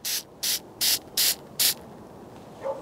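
Flex Seal sprayed from an aerosol can onto the end of a wooden hiking staff in five short, sharp hissing bursts at a steady rhythm, close and loud, followed by a faint final puff.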